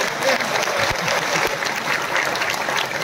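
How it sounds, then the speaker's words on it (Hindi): A crowd at a bank union meeting claps loudly and steadily, a dense sustained round of applause with some voices mixed in. "अरे आप तो जोर से ताली बजा दीजिए।"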